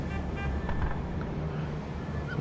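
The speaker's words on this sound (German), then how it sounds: "Soundeffekt ist auch krass, wenn man hier unter der Brücke steht und die Autos oben drüber fahren" Cars passing over a bridge overhead heard from beneath it in The Matrix Awakens video game on PS5, a steady low rumble of traffic with a faint drifting whine, continuous and fairly quiet, no talk.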